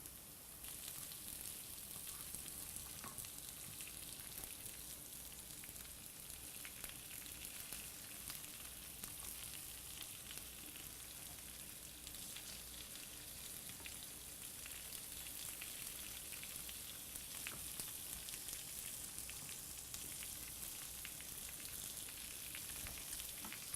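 Squash and zucchini fry in hot oil in a pan, giving a steady, even sizzle with a crackling hiss that holds throughout and no talking.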